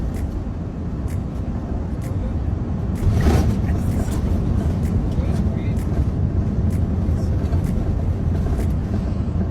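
An Airbus A340 lands on the rough runway at Port Harcourt, heard from inside the cabin as a loud, continuous roaring rumble that swells slightly after a brief jolt early on and then holds steady.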